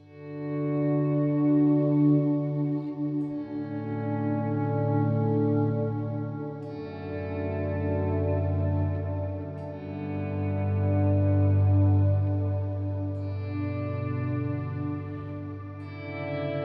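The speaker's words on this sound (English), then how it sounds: "here's a volume swell" Electric guitar through an effects pedalboard, played as volume swells with chorus, delay and reverb: sustained tones fade in softly and bloom into a wash of echoing trails, with no attack, moderately quiet throughout.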